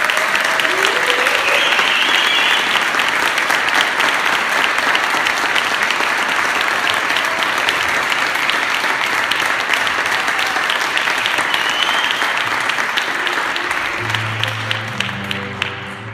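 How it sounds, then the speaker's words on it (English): Sustained, dense applause from an audience greets performer Daniel Valdez at a 16th of September event, a steady wash of many clapping hands that tapers off at the end as a voice begins. "please join me in a warm applause for Daniel Valdez"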